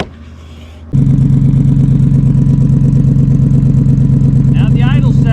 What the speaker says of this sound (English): So let's fire this thing up, see what kind of sound we get.